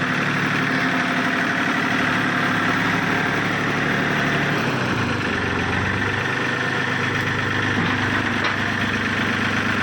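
A Yanmar 39 hp tractor engine idles steadily and loudly up close, a continuous low rumble with a slight shift in tone midway through.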